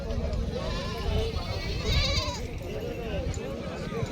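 Goats bleat repeatedly at the weekly goat market in Jawala, Aundha Nagnath taluka, Hingoli district, their calls overlapping close by amid loud crowd chatter and people talking throughout.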